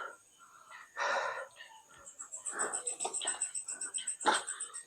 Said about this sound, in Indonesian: suara burung cuy